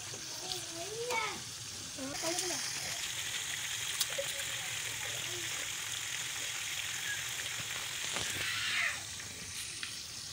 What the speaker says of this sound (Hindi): ये तैयार होने वाला है हमारा पुलाव, बस ये फ्राई होने में तकरीबन 2 मिनट रह गए हैं जी